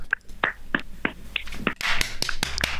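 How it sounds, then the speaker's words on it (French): Hands clapping at a steady, brisk rhythm, sharp close claps that crowd together and grow busier toward the end over a noisy room background. "On applaudit!"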